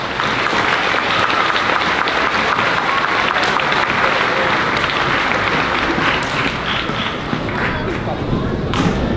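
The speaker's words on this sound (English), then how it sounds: "Let's give Ms. Mendez's class another round of applause." Warm, continuous applause from a school audience at a 5th grade moving-up ceremony, full and steady, with some thuds, a few cheers and murmuring voices underneath.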